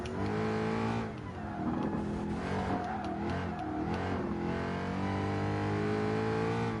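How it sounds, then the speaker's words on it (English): A Ford Mustang's engine revs hard in the Gran Turismo Sport racing game, a loud continuous roar that climbs and falls in pitch through gear changes, steady and close throughout with no voice over it. "Let's look at the nice engine of the Ford Mustang."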